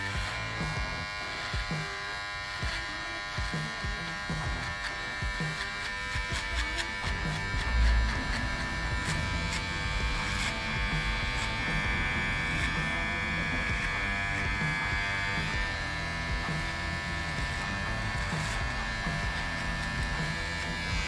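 Electric hair clippers buzz continuously while grazing over hair during a high fade haircut, a close, steady electric whine with slight changes in pitch and strain as the blade moves across the head.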